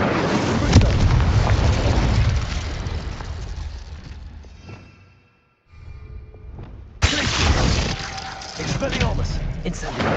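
An Incendio fire spell cast in the Hogwarts Legacy video game gives loud, booming bursts. Sustained rumbling fills the opening seconds and drops briefly to silence before a sharp crack starts a second roaring stretch.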